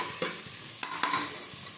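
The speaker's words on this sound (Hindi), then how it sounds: "ये देखिए हमारा वेजिटेबल भुन रहा है" Vegetables being fried for khichdi in a pan, with a steady low sizzle broken by a few brief stirring scrapes over a couple of seconds.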